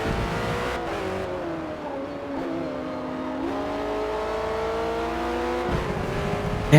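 A Ford race car in Forza Motorsport's endurance racing, its engine revving and pulling hard through the gears with rising and shifting tones, loud and close throughout.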